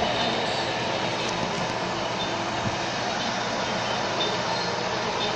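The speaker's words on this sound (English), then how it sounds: "Look at this little train." A small toy train rumbles steadily with a continuous mechanical clatter, fairly loud and constant throughout, with no talking.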